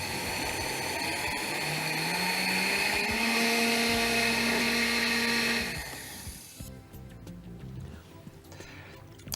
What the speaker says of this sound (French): Alors maintenant, on peut mixer.